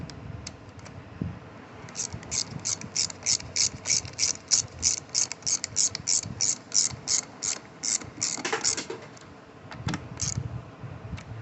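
A ratchet tightens bolts on the carburetor of a Troy-Bilt TB110 mower with a Briggs 550EX engine, making quick, evenly spaced clicking bursts at close range. Quieter handling noises fill the pauses between runs.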